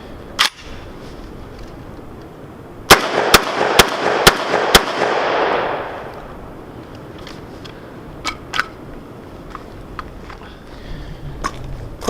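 A Vepr 12 AK-pattern shotgun fires Federal factory shells from a magazine, five sharp loud blasts in quick succession with echoing decay, followed by a few fainter distant shots or clicks.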